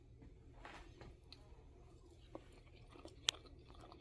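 Quiet, close chewing of a scrambled water-glassed egg cooked in olive oil without salt or pepper, soft moist mouth sounds with a couple of small clicks, alone with no talk.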